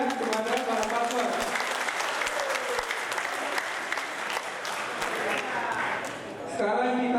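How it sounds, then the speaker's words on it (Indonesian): Lively audience applause for the candidates at a South Aceh regent election debate, a dense, sustained round of clapping filling the room, with talk faintly underneath. "berikan tepuk tangan yang meriah kepada para paslon"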